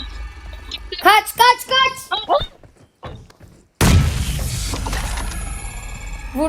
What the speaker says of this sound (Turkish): Artık bomba attım baba.